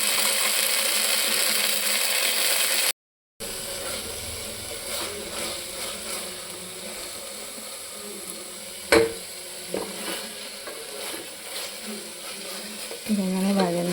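Garlic, ginger and green chili paste sautés in a pan for a meat rice dish, a steady low sizzle with stirring scrapes and a few sharp clinks, briefly cut out near the start.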